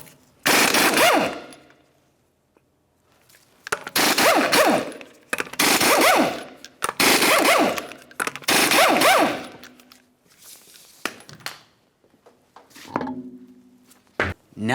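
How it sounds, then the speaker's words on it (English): An impact wrench removing the five 19mm lug nuts from a 2009-2019 Ford Flex wheel: about five loud rattling bursts, each a second or two long, separated by short quiet pauses, close by and without talk. "continue on to removing all 5 of your 19mm lug nuts and then the wheel"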